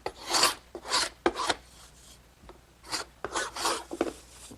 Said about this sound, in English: I'm just going to use an ordinary paint scraper.